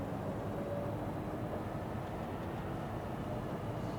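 An electric tram running in the OMSI 2 Zurich simulation game, Cobra tram on Line 11, gives a steady low rumble of rolling wheels and motor, continuous and fairly quiet throughout with no talk.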